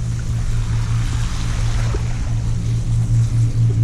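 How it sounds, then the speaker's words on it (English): A water taxi motors across the ocean off Fire Island, a steady low engine drone mixed with wind and water wash, close and continuous. "Oh, we got a water taxi."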